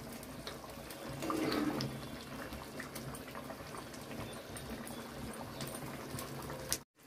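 Bangladeshi-style egg curry gravy with garam masala and ghee simmers in a pot, giving a quiet, steady bubbling that runs on evenly before a short knock and abrupt stop at the end.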